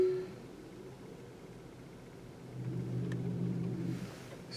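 A Tesla Model S autoparking slowly into a parking spot gives off a faint, low motor hum that swells for a couple of seconds in the middle, then eases off.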